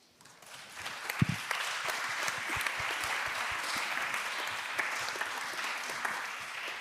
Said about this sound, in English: I wanted you to give them a big round of applause for the contribution they provide to the fund